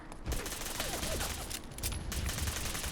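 Rapid automatic gunfire bursts loudly and densely in modded Fallout 4, a continuous crackling fusillade with brief lulls, close and harsh throughout.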